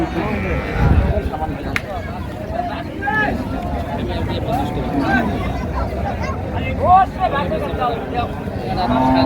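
Cattle at a busy village livestock market in Dinajpur, with occasional lowing and moos amid a constant hubbub of people talking nearby.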